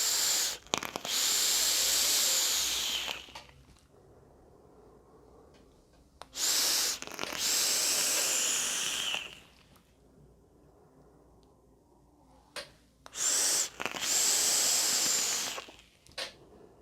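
Long airy hissing draws on a Cheetah 3 RDA atomizer from OBS vaped at 85 watts with no airflow adjustment, three sustained pulls of several seconds each, separated by quiet pauses and soft clicks.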